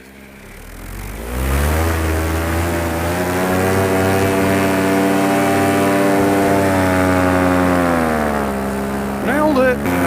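A paramotor engine starts and runs at a steady high drone during a launch in calm air, close and loud for several seconds, easing slightly near the end.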